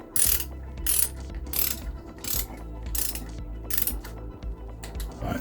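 Torque wrench ratcheting on the bolts of a Reliant Supervan engine short block during a rebuild, repeated rhythmic bursts of sharp metallic clicking, close and loud with brief pauses between strokes.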